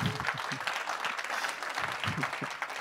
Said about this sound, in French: on peut applaudir Manu